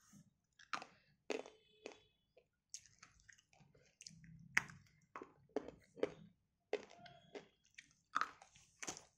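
Close, crisp crunching and chewing of roasted butter grey pieces in an ASMR mukbang setting, with bursts of bites and chews in an uneven rhythm and quiet pauses between them.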